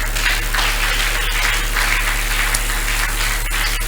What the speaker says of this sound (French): Tu peux encore acclamer.